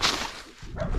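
A tall dog at the entrance of a property barks in short, close bursts over roughly a second, with some background noise and no one talking.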